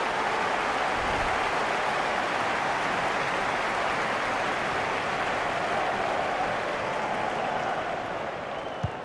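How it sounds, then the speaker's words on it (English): Steady roar of a large stadium crowd in a FIFA 20 Premier League match between Norwich City and Liverpool, a loud, sustained wash of cheering and noise that holds evenly throughout. "Well, just listen to the crowd."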